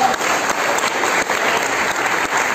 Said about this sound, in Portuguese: Você pode agradecer e aplaudir ao Senhor Jesus?